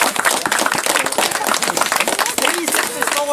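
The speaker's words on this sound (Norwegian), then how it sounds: "En applaus." Applause for the winner of a grayling fishing competition, a dense patter of hand claps from a small crowd, steady throughout with voices talking and calling over it.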